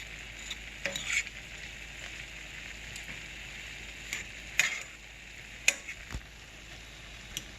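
Meat and onion seasoned with paprika are stirred in a frying pan, giving a steady low sizzle with scattered scraping clicks of the utensil against the pan, close and fairly quiet, with no talking.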